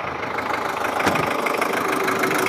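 A Daihatsu Taft GT 4x4 diesel engine idles steadily with a constant low rumble and faint rattling knock, no voices present.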